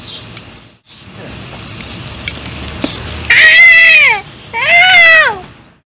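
A cat gives two long, loud, wavering meows close by, following quieter household background noise.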